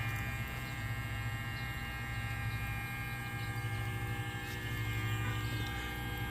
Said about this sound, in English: I'm gonna make sure that pump stays submerged.